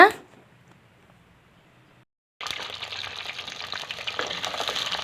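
Whole peeled shallots fry with garlic in oil, a dense crackling sizzle that bursts in suddenly after a near-silent pause and holds steady, a sharp knock at the very start.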